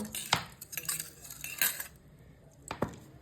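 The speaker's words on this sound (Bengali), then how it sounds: "গোলাপ জলের সাথে বিরিয়ানি মশলাটা এভাবে মিক্সড করে নেব।" A spoon clinks and scrapes against a small bowl in quick irregular strokes, stirring biryani spice into rose water, with a couple of sharper taps near the end.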